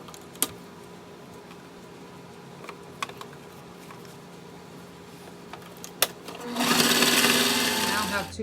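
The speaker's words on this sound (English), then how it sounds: "Go ahead and sew that down at 1/4 of an inch and back stitch a few times." Near the end a sewing machine starts up and runs steadily, stitching bag panels, close and moderately loud after a quiet stretch broken by a few light clicks and taps.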